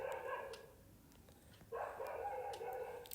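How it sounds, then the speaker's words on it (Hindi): Several dogs bark outdoors at middle distance, with a cluster of sharp barks at the start, a quieter gap, and then a renewed run of barking. "आज पूरी वीडियो में कुत्ते ही भौंकते रहेंगे, शोर ही मचा दिया इन कुत्तों ने भी सच में"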